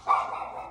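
A single close indoor bark from a house dog, sharp at the onset and trailing off quickly, alone with no voices.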